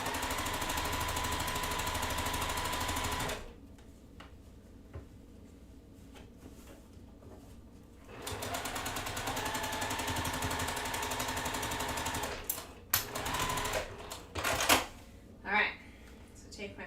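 A sewing machine runs through quilt blocks in long, steady stretches, broken by a quiet pause and then by a few short bursts and clunks near the end.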